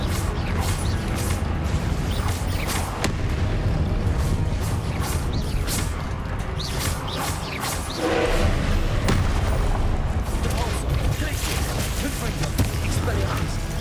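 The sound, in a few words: spell barrage hitting enemy in Hogwarts Legacy video game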